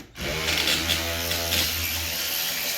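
A power tool spins loose a battery bolt on an Infiniti QX60, a steady close whirring drone with a low hum that runs nearly the whole time after a brief start.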